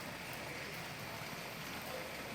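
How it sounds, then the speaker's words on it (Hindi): Continuous rain falls outdoors, a faint, even wash of hissing drops with no break. "कंटिन्यूसली बारिश चालू ही है, कंटिन्यूसली जा ही नहीं रही है।"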